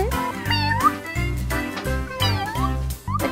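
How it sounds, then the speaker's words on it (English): A cartoon kitty cat meows several times from a children's toy surprise segment, the short, rising calls sitting over loud, steady background music with no talking. "It's a little kitty cat."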